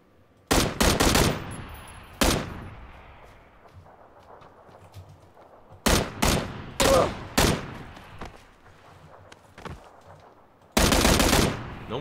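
Bursts of PUBG gunfire, several sharp volleys of rapid shots separated by quieter pauses with faint background ambience.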